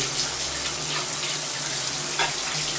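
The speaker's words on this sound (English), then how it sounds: "that's just the hot water, and it's coming out quite well" Hot water runs steadily from an older apartment faucet into a sink, a continuous close, loud rushing splash with no pauses.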